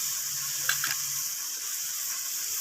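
Garlic and ginger paste sizzles steadily in hot oil while being stirred for a spicy chicken dish, a continuous bright hiss with a couple of brief scraping stirs near the middle and no talking.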